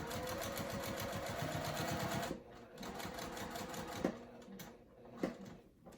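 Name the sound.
sewing machine stitching a crossbody bag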